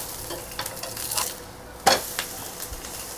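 Thalipeeth fries on a griddle with a soft continuous sizzle, punctuated by a few sharp spatula clicks and scrapes, close and fairly quiet.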